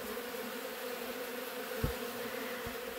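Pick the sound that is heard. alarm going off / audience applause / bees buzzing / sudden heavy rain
bees buzzing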